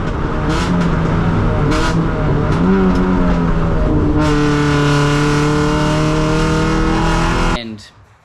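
A modified Hyundai Getz race car engine, down on mid-range torque, revs loudly and raggedly, pitch rising then holding a harsh steady drone before cutting off abruptly near the end, close with no talking.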